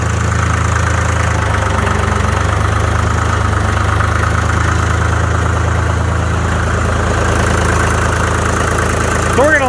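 Vehicle engine idling steadily after a jump start from a portable jump pack, a loud continuous low rumble that holds constant throughout with no pauses.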